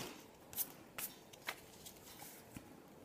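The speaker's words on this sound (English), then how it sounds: "I'm just going to snip that off." Scissors snip through part of a paper collage, giving a few faint, sharp clicks spaced about half a second apart in a quiet room.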